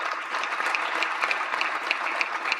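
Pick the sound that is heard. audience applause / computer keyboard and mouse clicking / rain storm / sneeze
audience applause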